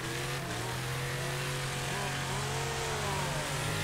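A rival car's engine drones steadily close behind in a Wreckfest race, a raw buzzing rasp like a chainsaw that holds its pitch with slight wavering throughout, loud and continuous with no talking.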